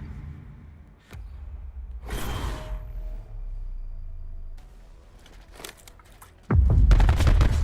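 Video game gunfire comes as scattered sharp shots and booming bursts, with a louder heavy barrage near the end and mechanical rattles between them.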